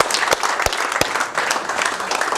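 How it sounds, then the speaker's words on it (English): Audience applause at an impact talk for a volunteer named Scott: a close, busy patter of many hands clapping, with a few sharp, louder individual claps punching through the steady wash. "Can we give Scott a round of applause?"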